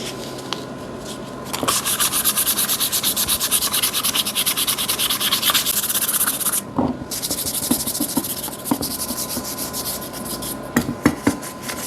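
Steady abrasive rubbing of sandpaper against a motorcycle part being prepared for paint, continuous strokes for several seconds, then a pause followed by a few scattered scrapes and taps.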